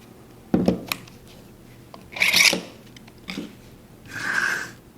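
A Dewalt 20V cordless router motor sliding into a 611 plunge base, heard as a few close plastic-and-metal scrapes and rubbing clunks in a quiet workshop, separated by short pauses.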